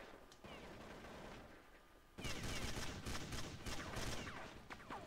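Rapid bursts of AK-47 rifle fire in Counter-Strike 1.6, a quieter stretch of scattered shots giving way to loud, dense automatic volleys with sharp individual cracks, played alone without voices.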